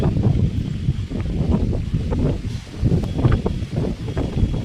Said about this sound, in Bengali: প্রচণ্ড ঝড় উঠেছে, খুব সুন্দর লাগছে সকাল সকাল।